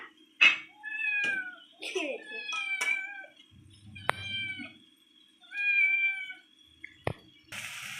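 A kitten meows repeatedly in short, high, tonal cries with brief pauses between them, close by, with a few faint clicks and rustles.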